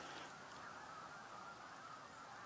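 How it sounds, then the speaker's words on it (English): Geese at Cayuga Lake honk in a faint, distant wash of overlapping calls, a continuous low-level flock murmur rather than distinct individual honks. "maybe it makes sense for the geese to land here"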